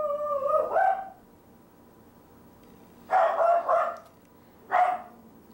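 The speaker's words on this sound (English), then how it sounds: "Excuse my dog's barking." A dog barks in short bursts: one bark at the start, then a quick double bark and a single bark later, with quiet background between.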